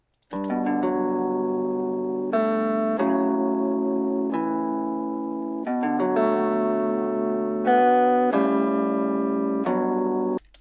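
A clean electric guitar sample plays sustained chords and notes in a slow, even progression, with no distortion or added effects.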